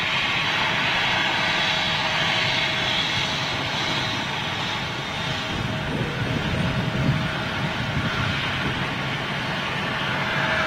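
An Embraer jet roars at London City Airport, a loud and continuous engine rumble and whine that holds steady throughout with no nearby voices.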